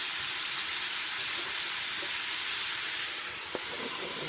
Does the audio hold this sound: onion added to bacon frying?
yes